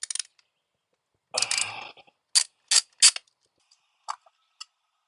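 A bolt being loosened with a ratchet during an oil change on a Yamaha R7 motorcycle, heard as short, close bursts of ratcheting clicks and a few isolated metallic ticks separated by silence, with no voices.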